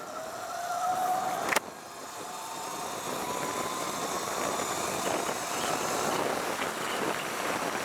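A Sur Ron electric dirt bike with a BAC2000 controller rolls downhill on Sierra Road, giving a steady whirring hum over wind and road rush, with a sharp brief click near the start.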